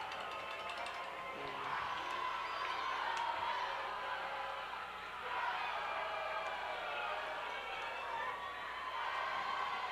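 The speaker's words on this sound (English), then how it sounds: "Listen to this crowd getting loud" High school football crowd at an Eldon versus Osage game, a sustained, fairly distant roar of cheering with scattered whoops and yells rising and falling.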